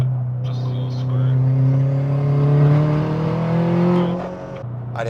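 A turbocharged 8th-generation Honda Civic pulls in third gear, its engine note climbing steadily as revs rise before easing off, with voices talking over the drone.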